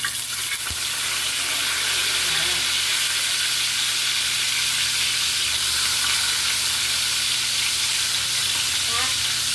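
Marinated pork frying in a hot pan gives a loud, continuous sizzle and hiss throughout, with occasional stirring scrapes and a brief knock near the start, close up.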